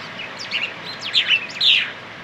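Several birds chirp and tweet in Namibia, with quick, bright calls in short bursts that rise in loudness toward the end over a quiet background, fairly close.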